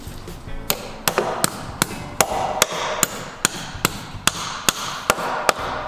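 A hammer strikes anchor bolts for a flat-roof garden shed, about a dozen sharp metallic taps in a fairly regular rhythm, close and clear with no talk.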